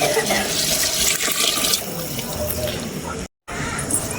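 Water gushes and splashes into a pot for biryani, a loud steady pour that thins out midway, briefly cuts off, then resumes.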